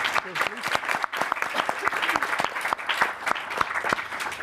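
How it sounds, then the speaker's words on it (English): Audience applause at the close of a research network conference, a steady patter of many hands clapping, moderately loud, with some voices mixed in. "Can we give a big round of applause to our..."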